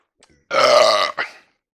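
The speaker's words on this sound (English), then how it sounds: "burp inducing" A single loud, drawn-out burp lasting about half a second, followed by a shorter trailing belch, close up with no talking.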